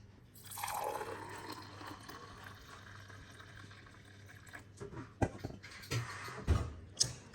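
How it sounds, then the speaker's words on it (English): Fresh homemade carrot and cucumber juice pours into a glass in a faint, soft liquid stream, followed by a few small clinks and splashes near the end. "So here is our juice. Let me pour it out and show you guys."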